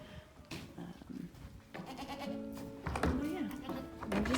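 Goats on a small 4-acre homestead bleat repeatedly, several wavering calls at moderate distance, with people talking quietly underneath.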